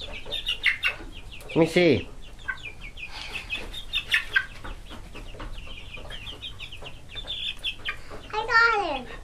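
Chickens cluck and squawk in short, scattered bursts, one loud rising squawk near the start and another near the end, while children and adults chatter around them during a chicken catch.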